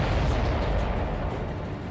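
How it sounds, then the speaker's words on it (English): A supply ship explodes in the Ace Combat 7 video game, a loud, dense roaring blast that fills the whole span with heavy low rumble and crackle, no voices. "Did you see that explosion? Looks like that's one of them down."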